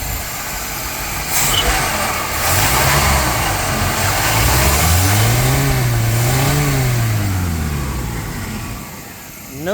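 A 1978 Chevy C-10 pickup's engine runs close by, rising from a low idle into a couple of smooth revs before settling back down, with no voices over it.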